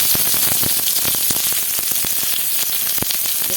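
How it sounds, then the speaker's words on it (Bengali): Onion frying in hot oil in a kadai, an even close sizzle with frequent sharp pops and crackles, steady and alone without speech. "পেঁয়াজটাকে ভেজে নেব।"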